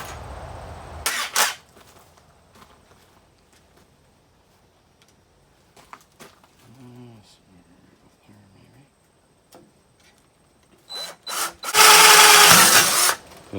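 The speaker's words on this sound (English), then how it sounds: "This drill has no power for drilling." A weak cordless drill whirs in short bursts near a snowblower, with a loud final run near the end, separated by quiet handling clicks and thuds.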